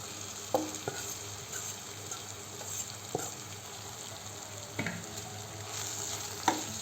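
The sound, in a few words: grated bamboo shoot mixture frying and being stirred in pan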